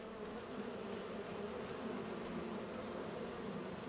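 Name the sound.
bees buzzing at hives in video game Farming Simulator 25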